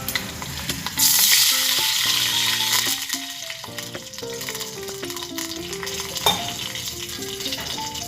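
Water hits a hot tempering of mustard seeds, curry leaves and chili for dhokla with a sudden loud hiss that settles into steady sizzling and bubbling, accompanied by close clinks and scraping of a spoon in the pan.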